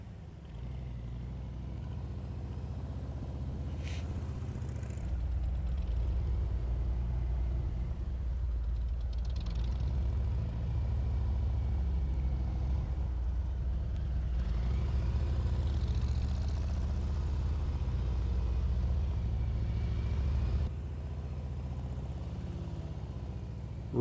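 A Harley-Davidson Street Glide motorcycle running a low-speed practice exercise, its deep engine rumbling steadily and swelling slightly as it passes, moderately close with no voices.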